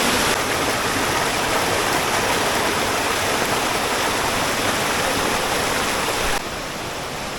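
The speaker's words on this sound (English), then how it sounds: "Another secondary little cascade up there." A small secondary waterfall cascading over molded rock in a cave, producing a loud, dense, continuous rushing roar close by that drops slightly in level near the end, with no voices.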